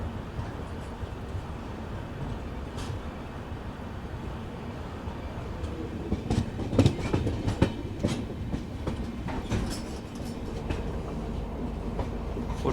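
The Humsafar Express rolls along the rails through Assam, a steady rumble of the moving train with rhythmic clickety-clack wheel beats that grow louder and busier partway through.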